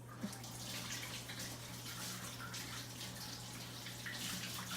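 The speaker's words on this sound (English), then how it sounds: "Let me wash my hands again." Tap water runs steadily into a sink during hand washing in a home kitchen where meatloaf is being prepared, a soft constant wash with a low hum beneath it and no talk.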